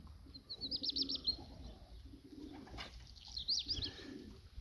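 Racing pigeons arriving at a loft in Poland coo softly at close range, with a couple of brief higher chirps and a light flutter of wings, all faint over a quiet outdoor background.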